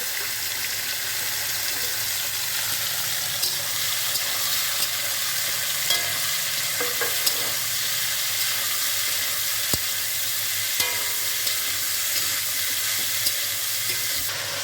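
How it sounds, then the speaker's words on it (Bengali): Carrot, cauliflower, beans and capsicum frying in hot oil over a high flame, making a continuous close sizzle with occasional soft clicks of stirring. "তেলটা ভালো করে গরম হয়ে গেছে, এটা সম্পূর্ণ দিয়ে ভালো করে ভেজে নেব"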